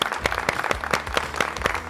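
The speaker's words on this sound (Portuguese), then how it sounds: "uma salva de palmas para todos vocês que fazem parte dessa história" A studio audience in a Brazilian program applauds, clapping steadily as a dense, close and continuous patter that lasts the whole moment and has no voices over it.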